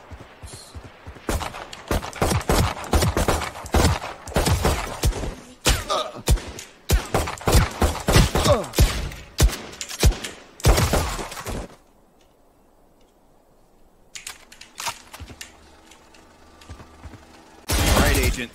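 Rifle gunfire in the video game Valorant, aimed at shooting-range targets, crackles in rapid, loud bursts of sharp shots for about eleven seconds, drops to a near-silent pause, then ends with one final burst.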